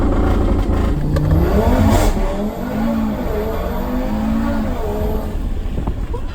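An Audi RS3 accelerating hard from 0 to 100 km/h, its engine note rising in loud sweeps through the gears, close-up and continuous for several seconds.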